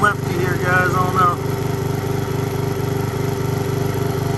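A small engine idles steadily as its carburetor screw is turned, a low, even pulsing drone that carries throughout, with a person talking briefly over it near the start.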